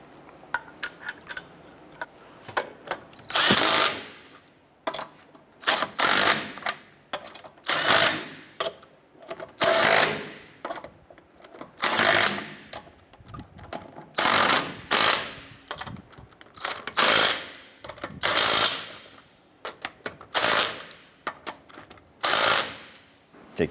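Impact wrench on a 2008-2012 Honda Accord wheel tightens lug nuts in about a dozen loud, close bursts, each a rising rattling buzz lasting around a second, separated by short pauses with faint handling noise.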